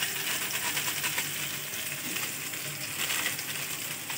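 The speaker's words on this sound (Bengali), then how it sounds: "মশলাটা আমি ভালো করে কষে নেবো যতক্ষণ না তেল ছাড়ছে" Kashmiri red chilli powder and spices fry in hot oil for ghugni, a steady, dense sizzle that holds evenly at close range throughout, with faint scraping of stirring underneath.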